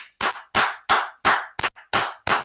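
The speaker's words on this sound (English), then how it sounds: "Clap it up for that man." Seven sharp, separate claps ring out in an even rhythm, close and loud with short silent gaps between them, on a Brooklyn street.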